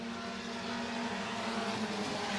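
A race car engine roars steadily on a dirt oval track during a stock car heat at Buena Vista Raceway, a continuous droning rumble at a fairly distant, even level with no voices.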